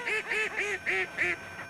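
Ducks quack as a flock rises, five loud, harsh nasal calls in a quick, evenly spaced series, close and clear with no talk.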